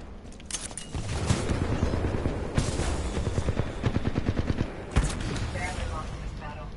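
Rapid gunfire from the video game Titanfall 2, a dense stream of shots with mechanical clatter, loud and continuous, with a couple of sharper blasts, while a player talks over it.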